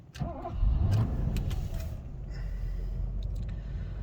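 A cold Mercedes-Benz 420SE V8 cranks and fires up, then settles into a steady, loud idle that continues close by for the rest of the moment.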